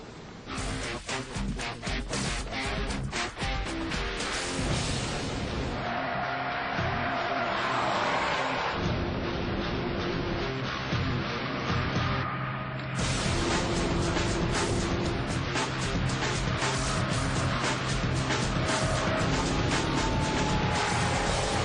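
BMW 6 Series engine recorded with microphones for sound tuning, a loud sustained rumble that rises and revs repeatedly, dips to a smoother hum midway, then surges hard again with a rapid pulsing beat, no voices.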